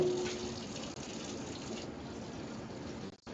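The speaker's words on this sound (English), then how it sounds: "slowly I kind of drain off or wash out my pot at the same time" Steady rush of water running and draining while a pot used for cooking chili is rinsed out, continuous and close, with a brief break near the end.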